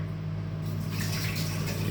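A kitchen tap runs steadily while bolognese is being cooked, a continuous rushing splash that swells slightly louder about halfway through, with a low hum beneath.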